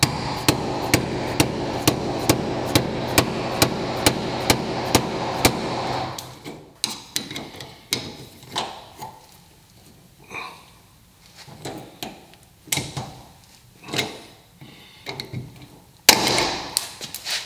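A lock cylinder is hammered and pried with a screwdriver until it breaks off, giving a fast, steady run of sharp metallic taps that gives way to scattered, irregular knocks and clanks, close and loud with no speech.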